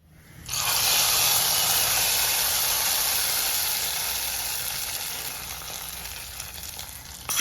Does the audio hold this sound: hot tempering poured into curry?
yes